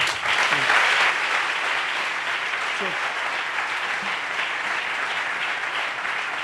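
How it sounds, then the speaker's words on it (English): Sustained applause from a church congregation, steady and fairly loud throughout, with brief voices faintly audible underneath. "Clap for him."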